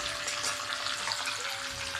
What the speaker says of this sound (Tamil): நெக்ஸ்ட்டு கருவேப்பிலை கொத்தமல்லி போட்டு தாளிக்க போகிறோம்.